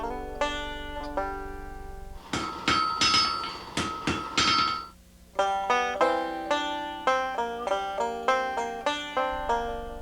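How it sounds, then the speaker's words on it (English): Hand-forged nails being hammered over a fire: close, ringing metallic hammer blows in a steady rhythm, interrupted midway by a few seconds of louder, noisier hammering before the regular ringing strikes resume. "keeping one such tradition alive with hammer and fire, making nails"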